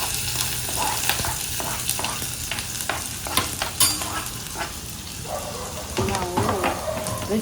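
Oil sizzling and crackling in a pan while vegetable Maggi noodles cook in a rental kitchen, a dense continuous hiss with scattered spatter pops and stirring clicks, close and fairly loud throughout.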